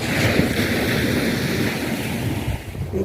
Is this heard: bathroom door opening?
no